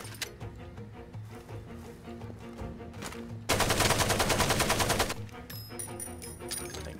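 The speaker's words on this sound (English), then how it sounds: "This gun is inaccurate as fuck." An inaccurate gun fires in the video game Far Cry 2, and a loud burst of automatic fire lasts about a second and a half over a quieter background of game sound.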